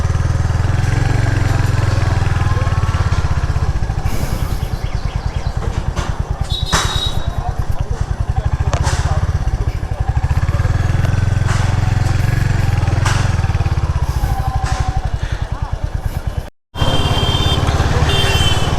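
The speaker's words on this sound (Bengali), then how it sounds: "এই প্রথম আমি হান্টার চালাচ্ছি।" A Royal Enfield Hunter 350 motorcycle is ridden through town, its single-cylinder engine giving a steady low thrum that rises and falls with throttle, along with wind and road noise and a few brief dropouts.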